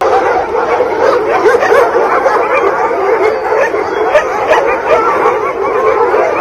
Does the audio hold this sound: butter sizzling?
no